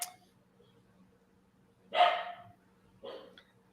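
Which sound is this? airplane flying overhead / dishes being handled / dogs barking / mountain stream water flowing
dogs barking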